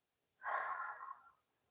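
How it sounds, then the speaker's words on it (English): A single deep breath drawn in over about one second, close and soft, alone in a quiet room with no talking. "Let's take a deep breath together."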